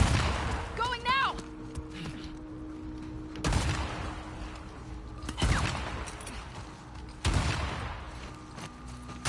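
Heavy enemy gunshots ring out in The Last of Us Part 2, several loud separate blasts spaced a couple of seconds apart with reverberant tails, a player talking briefly between them.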